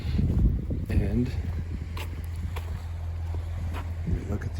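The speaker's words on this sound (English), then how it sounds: "and it's windy." Cold wind blows across an open tidal foreshore at low water during mudlarking, a steady low rumble of wind buffeting the microphone throughout, with brief voice sounds near the start.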